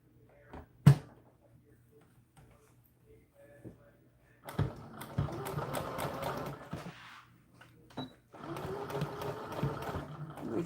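Sewing machine stitching a doll dress seam forward and backward, two bursts of fast mechanical whirring separated by a pause, after a sharp click and soft handling noises near the start.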